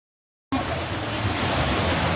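Floodwater rushes through a flooded village after heavy rain, a loud, dense roar that starts abruptly and holds steady and close with no pauses.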